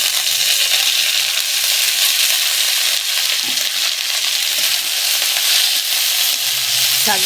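Red amaranth greens frying in hot oil with onion, chilli and garlic, giving a loud, steady, close sizzle with occasional stirring scrapes throughout.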